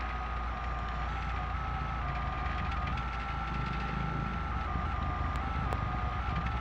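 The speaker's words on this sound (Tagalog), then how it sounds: "Yan yung dump truck natin mga loads na deliver ng buhangin." Dump truck delivering sand at a construction supply yard, steady reversing beeps repeating over a continuous low engine rumble, moderately near with no speech.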